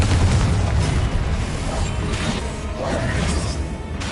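A Confringo spell in Hogwarts Legacy lands with a heavy, booming blast, followed by rumbling bursts and whooshing debris that fade over a few seconds.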